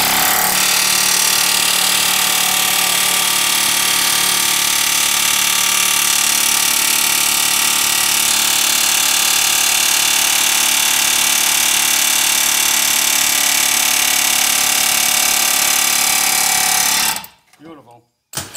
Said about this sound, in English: I'm using a chisel that's slightly curved